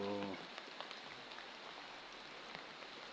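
Steady, soft rain falls outdoors beside a well being built with cement, a faint, even hiss with scattered drops and no voices.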